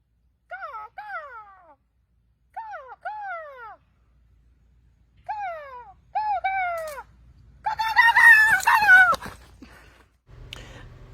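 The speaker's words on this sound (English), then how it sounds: "American crows are large, long-legged, thick-necked black birds with a heavy, straight bill." American crows calling, large black birds with heavy straight bills, giving repeated harsh caws in short bursts of two or three, clear and fairly near, followed by a louder burst of mixed calls and some rustling.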